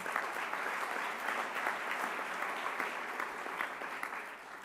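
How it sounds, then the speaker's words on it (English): Sustained applause from a conference crowd at an annual meeting's opening plenary session in San Francisco, steady dense clapping throughout with no voices standing out. "Can you please give them another round of applause?"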